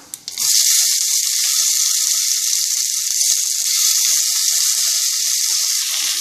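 Onions drop into hot oil with tempered spices for vegetable biryani, with a couple of clicks and then a sudden, loud, sustained sizzle that continues without a break.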